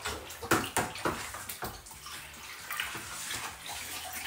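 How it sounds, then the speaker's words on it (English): Blackcurrant wine stirred in a fermenting bucket, liquid sloshing and swirling in a run of splashy pulses that ease into a steady gurgling wash, close by and alone. "we give it a good stir to mix it all in"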